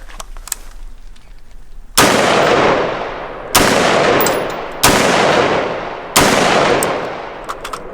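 Prema Arms AR-15 rifle firing .223 and 5.56 military green-tip rounds, four loud sharp shots spaced over a second apart, each with a long decaying echo, after faint earlier pops.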